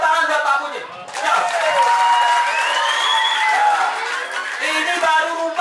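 An audience at an English and character camp event bursts into loud, sustained applause and cheering, with excited voices and whoops rising over the clapping throughout.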